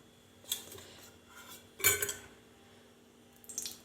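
A metal wok is handled on a stove while oil is poured in, giving a few isolated clanks and scrapes of metal spaced out over quiet kitchen background, one louder clatter in the middle.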